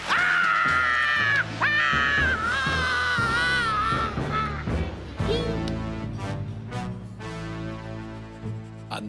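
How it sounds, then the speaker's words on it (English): A cartoon lobster shrieks as it is lowered into a kitchen pot of boiling water, the scream performed by a human voice. The loud, high, wavering cry rises over dense dramatic music, then gives way to the music. "that was the first and last time that a lobster has ever screamed."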